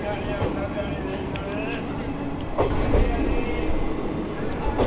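Freight train hauled by a WDG 3 locomotive rolling past in Odisha, a loud continuous rumble with rhythmic wheel clatter heard close from another train, with someone talking over it.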